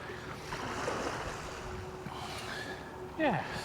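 Surf washing onto the beach at Studland in the evening, a steady soft wash of waves with wind noise, fairly quiet, under faint voices.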